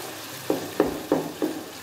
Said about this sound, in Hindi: चिकन हमारा बहुत अच्छे से फ्राई हो रहा है।